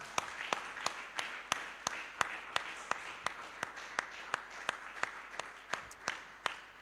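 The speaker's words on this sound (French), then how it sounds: "Applaudissons pour lui." A church congregation claps in a steady, even beat, the sharp claps evenly spaced and moderately distant over a soft room murmur.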